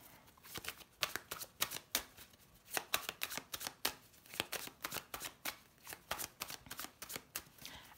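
Tarot cards shuffled and drawn by hand, a quick rhythmic run of crisp flicks and riffles, close and clear against a quiet room.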